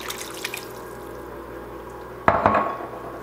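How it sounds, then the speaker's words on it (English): Beef broth splashes into a crock pot of pumpkin chili in one short, close pour after a quiet stretch of faint kitchen noise. "let's put in our beef broth"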